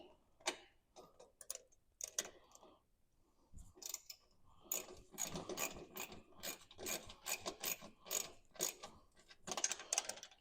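Nuts and washers being tightened onto a Segway Villain while fitting rock knockers: a run of quick metallic ratcheting clicks and rasps in irregular bursts, close and fairly quiet, with short pauses between rounds of turning.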